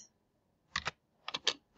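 Keys clatter on a computer keyboard in a quiet room, first a quick double tap, then a short cluster of three or four keystrokes, soft and close, with no one talking.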